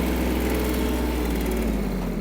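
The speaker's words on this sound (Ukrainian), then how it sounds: "Мінімальна швидкість трактора." A Yanmar KE-50 mini tractor creeps along at its minimum speed. The small diesel engine runs close by with a constant, loud, low drone and a fine pulsing rattle, and no voices are heard.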